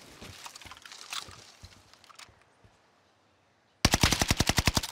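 Scattered shots in the shooter game Warzone fade into near silence, then a loud rapid burst of automatic gunfire rattles in fast, even pulses to the end.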